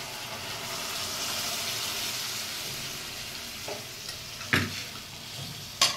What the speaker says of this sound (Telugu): next ఉడకబెట్టుకున్న chicken వేసేయాలా